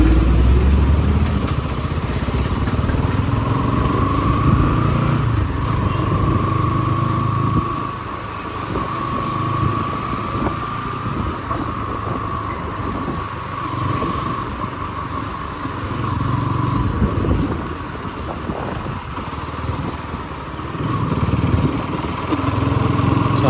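A 2024 Bajaj Pulsar NS200 motorcycle engine while riding in a high gear at low RPM, with a steady, loud drone that rises and falls slightly throughout, no voices.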